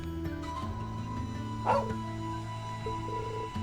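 Game dog from Trails of Cold Steel 2 gives a short bark or yip partway through, heard over a steady layer of background music.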